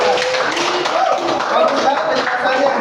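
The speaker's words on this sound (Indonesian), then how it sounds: "Nah, tepuk tangan." Students in an elementary classroom clap their hands in applause, a continuous busy patter of many hands that fills the room with no break.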